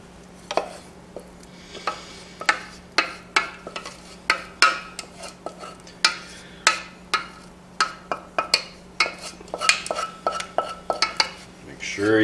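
A spoon mixes cheese sauce into macaroni noodles in a pot, giving a steady run of sharp metallic clinks and scrapes in an irregular rhythm, close and fairly loud, with a low hum underneath.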